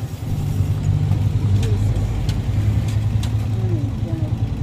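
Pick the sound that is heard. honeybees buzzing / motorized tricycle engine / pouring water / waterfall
motorized tricycle engine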